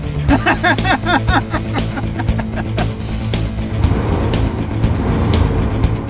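A Chevy C1500 truck engine starts and settles into a rough, close idle rumble, with a voice talking over the first few seconds.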